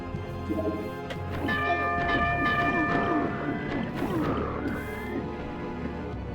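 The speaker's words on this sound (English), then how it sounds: "That bell sounds a bit loud." A loud bell tolls in the PlayStation game MediEvil. Its long ringing overtones hang over a dense, rumbling game soundscape of growls and clatter.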